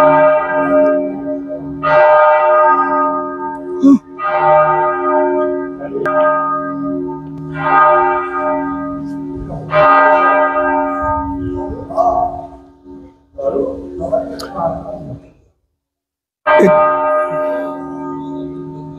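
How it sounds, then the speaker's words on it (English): Large church bells of the Church of the Holy Sepulchre in Jerusalem ring out loud, each strike leaving a long resonant hum, repeating in a slow irregular sequence with a brief quiet gap near the end. "But listen to the bells."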